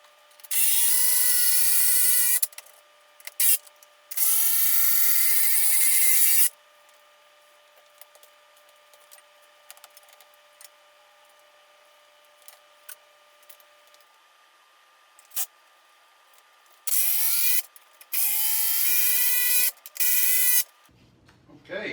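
A cordless drill drives bolts into an IKEA kitchen cabinet island, with loud whirring bursts of a couple of seconds each at the start and end, separated by a long stretch of quiet clicks and handling sounds.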